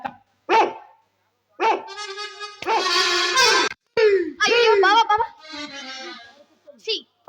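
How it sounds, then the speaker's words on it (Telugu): A dog barks and yips loudly and close by in several bursts, mixed with high, excited voice-like whines. "ఏ కుక్క బావు బావు అన్నదే"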